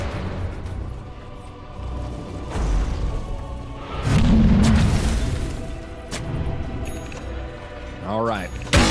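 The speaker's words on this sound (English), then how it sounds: "so you're still taking explosion damage." Dota 2 match with booming freezing field explosions layered over a busy game soundscape, heavier thumps midway, while commentators talk throughout.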